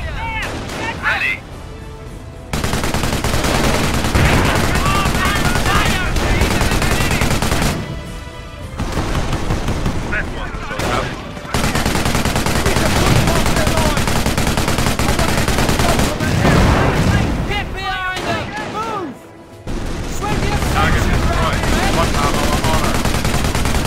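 Dense, loud machine gun fire and battle noise in the World War II strategy game Company of Heroes, sustained bursts of rapid gunfire with booms and short lulls, while game voices speak over the fighting.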